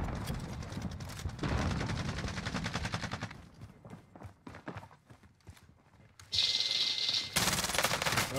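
Gunfire from a rooftop shooter in a video game: rapid bursts of automatic shots, then a run of spaced single reports, then louder sustained firing, close and sharp.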